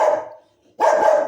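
A dog barks nearby in two short bursts separated by a brief silence, loud and clear with no voices.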